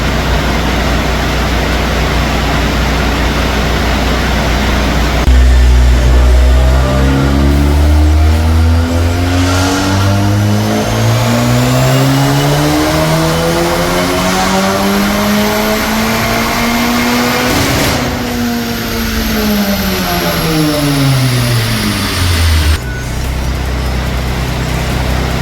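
A built big-turbo 10th-gen Honda Civic Si engine runs on a dyno, a loud steady idle rising into a long full-throttle pull that climbs smoothly in pitch for about twelve seconds with turbo whine, then drops back as revs fall away, alone and close.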